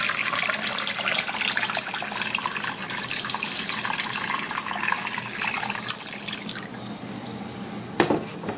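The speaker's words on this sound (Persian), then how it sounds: "آبو میریزیم داخلش" Water pours steadily into a cooking pot holding meat, ginger, garlic, cinnamon sticks and rosemary, making a continuous splashing stream that thins out toward the end, heard close with no talking.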